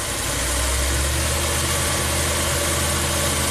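Ram camper van engine idling with the RPM raised, a loud steady low hum and drone with vibration, close and unbroken, no voices.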